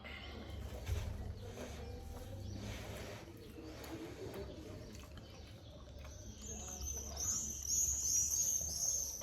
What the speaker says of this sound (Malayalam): എല്ലാ ശബ്ദം കുരുവികളുടെയും ഇതൊക്കെ നിങ്ങൾക്ക് ആസ്വദിച്ച് കഴിയാം.